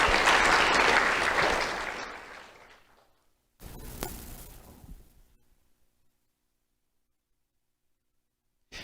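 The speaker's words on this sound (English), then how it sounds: "Let's have a round of applause for Connor Waters." Loud audience applause at a sheriff's office youth awards ceremony, a dense burst of clapping that fades out, then a second, shorter round of clapping rises and tapers off into silence.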